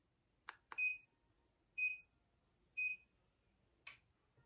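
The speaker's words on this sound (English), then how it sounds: "once those 3 beeps go, the machine will start walking" Three short electronic beeps from a WalkingPad P1 folding treadmill starting up sound at an even pace, with a couple of faint clicks before and after, in a quiet room.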